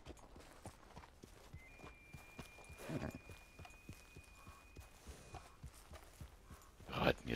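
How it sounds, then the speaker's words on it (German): Horse hooves clip-clop at a slow, steady walking pace, moderately close, with soft background rustle and a faint thin tone running through the middle. "Lauscht dem Hufgetrappel des Pferdes."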